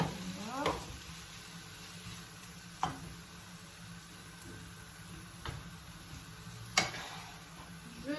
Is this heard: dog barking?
no